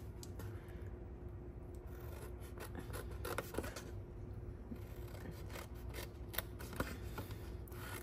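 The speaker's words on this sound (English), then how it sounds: "now I'm also cutting the corners off of these tabs" Scissors snip the corners off cardboard tabs of a handmade treat box, faint close-up clicks and crisp cuts scattered over a low steady room hiss.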